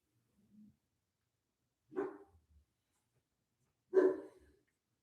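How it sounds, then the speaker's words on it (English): Dogs bark two separate times, each a short, moderately loud bark spaced about two seconds apart. A faint soft yip comes first, with quiet gaps in between. "Don't know why they're doing barking"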